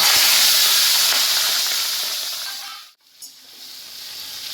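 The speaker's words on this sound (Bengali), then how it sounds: "তেল গরম হয়ে গেছে এবার আমি মাছগুলো" Tangra fish go into hot mustard oil with a loud, close hiss of sizzling that starts at full strength and fades over about three seconds. A brief quieter crackle follows.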